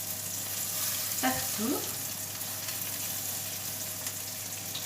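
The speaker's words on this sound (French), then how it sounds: "je vais retourner mes petites boulettes pour qu'elles soient bien grillées" Small beef meatballs sizzle steadily in a frying pan while being turned, with a couple of brief scraping, clattering stirs near the start, a single spoken word, and then continuous hissing frying.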